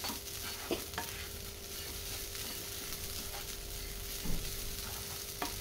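Sprouts frying in a pan and being stirred, a soft continuous sizzle broken by a few scraping knocks of the spoon, heard close and alone.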